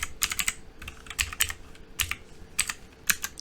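Rapid typing on a computer keyboard while working in Excel: close, crisp key clicks in quick, uneven bursts, recorded alone at a fairly quiet level.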